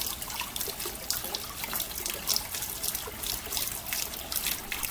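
Water spilling down a small cascade, a steady bright trickle and splash with irregular drips, close and moderately loud, with no voices.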